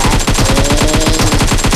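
Rapid shotgun fire in the PUBG Mobile battle royale game, a loud, dense burst of repeated blasts in quick succession with no pauses, close and dominant.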